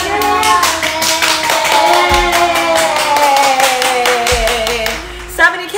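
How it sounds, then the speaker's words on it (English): Hands clapping in a steady rhythmic beat, close and clear, over music playing in a home kitchen. "You want to clap your hands?"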